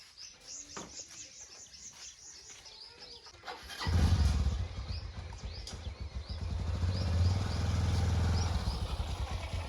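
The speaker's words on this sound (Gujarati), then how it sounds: "તો બાઇકનો અવાજ" Birds chirp quietly at first on a farm, then a motorbike engine starts up and keeps running loudly nearby, its steady throb building toward the end.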